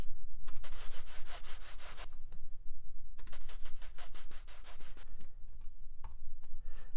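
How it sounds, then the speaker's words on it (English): Brushed, brush-drum-like swishes from a drum loop warped to sixteenth-note beats in Ableton with a fader pulled down, rapid even pulses in sustained bursts with brief gaps, steady and clear without voices. "you can kind of get this sort of brushed, like brush drum kind of sound"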